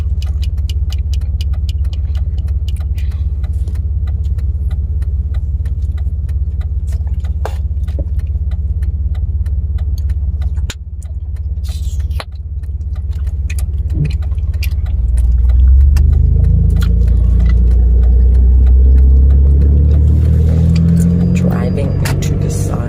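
A truck drives along the road with a steady low engine rumble and road noise from inside the cab, with small clicks and rattles and a deeper surge of engine sound in the latter part.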